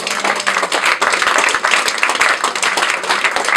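A church congregation claps together at a Sunday service, loud sustained rhythmic clapping from many hands filling the room, with a few voices faintly beneath.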